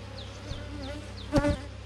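Honeybees buzzing at a beehive, a faint steady hum with a brief louder bee passing close near the end, no voices.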